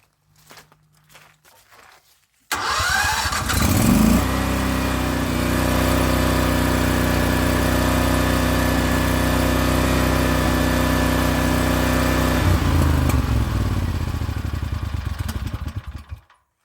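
CAT RP12000E portable generator whose engine starts with a sudden catch and then runs loudly and steadily with a droning hum before cutting off near the end; a few faint clicks come before the start.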